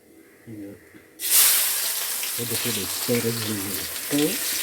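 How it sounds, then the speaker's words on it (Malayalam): Shallots and two dried red chillies dropped into hot oil for kaalan, a quiet start then a sudden loud sizzle that hisses on steadily under a voice speaking. "1 പിടി ചെറിയുള്ളി ഇട്ട്, 2 വറ്റൽമുളക് ഇട്ടു"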